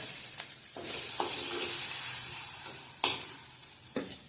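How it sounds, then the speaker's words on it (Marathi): Freshly grated coconut dry-roasting in a pan over a low gas flame for a Malvani-style prawn curry, giving a steady soft sizzle broken by several brief scraping stirs of a spoon against the pan. "ओलं खोबरं घालायचं, गॅस स्लोच ठेवायचा आहे आणि भाजून घेऊया"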